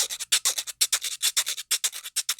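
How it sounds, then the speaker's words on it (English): A güiro, a Puerto Rican scraped gourd instrument played for a samba rhythm, rasps in quick rhythmic bursts of scraping, loud and close with short gaps between strokes and no talk. "I have here the güiro, basically a seed, and it sounds like this."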